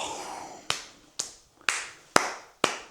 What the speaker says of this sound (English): Give your son a round of applause, mate